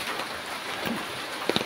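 Rain falls on a farm in Bulacan in a steady, dense hiss, with a couple of brief louder taps near the end.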